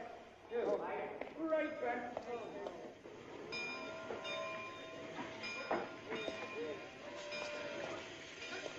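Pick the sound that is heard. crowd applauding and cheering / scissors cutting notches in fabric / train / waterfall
train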